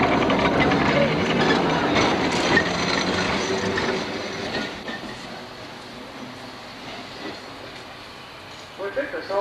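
Rumbling rail noise of a Sydney tram pulling away, broadband and steady, fading slightly, with a public address voice and crowd chatter mixed in.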